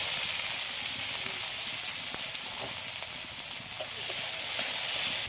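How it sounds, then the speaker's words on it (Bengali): Chopped onion, green chili and tomato fry in hot oil in a pan, giving a steady close sizzling hiss throughout at moderate level, with no talking. "পেঁয়াজ আর টমেটোটা একটু হালকা করে ভেজে নিয়েছি।"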